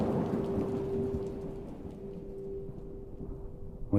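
On a rainy day in Los Angeles, a steady wash of rain falls with low rumbling thunder, continuous and fairly loud, with no voices.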